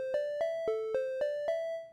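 Six synthesized tones from SuperCollider, played fully legato so each note runs straight into the next with no gaps, moving through a short sequence of pitches before fading at the end. The notes are clean and sound alone.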